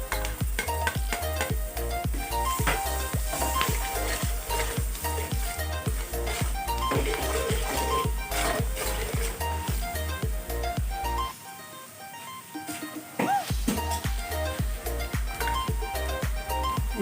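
Garlic and onion sautéing in a pan for beef kare-kare, a steady sizzle with occasional stirring scrapes, close and continuous, over background music.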